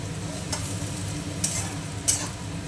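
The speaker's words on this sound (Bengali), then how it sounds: "তো আলু ভাজা হচ্ছে, এরপরে পরোটাটা করবো।" Potatoes frying in a pan, a steady low sizzle with faint stirring scrapes and a few brief clatters of a utensil against the pan.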